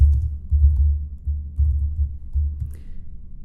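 Rapid, steady typing on a computer keyboard, a close run of soft low key clicks in uneven bursts with a few short pauses, no voices present.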